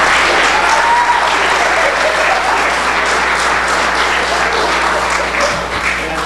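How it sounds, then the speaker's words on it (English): A school audience gives loud, sustained applause for the children after a Friday performance of a fall musical, dense clapping filling the hall throughout with no voices over it. "If we could give the kids another round of applause for all their work tonight."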